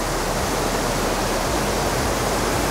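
A loud river rushes nearby in a dense, steady roar of broadband water noise that never lets up, with no voices over it.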